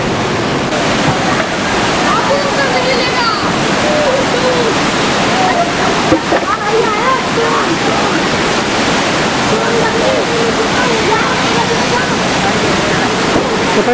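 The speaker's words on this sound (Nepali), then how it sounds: "52 ढोकाहरूमध्ये 24 ढोकाहरू खोलेर यसरी पानीको बहाव" Heavy river water roaring through the opened Koshi Barrage gates during a flood, a dense, steady broadband rush that stays loud and constant throughout with no break.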